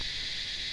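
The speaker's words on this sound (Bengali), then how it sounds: "ঝিঝি পোকার ডাকটা খুব ভালো লাগছে আমার।" Steady, continuous trill of crickets on an evening in a rural Takda hillside homestay near Darjeeling, a faint, unbroken insect drone with no pauses.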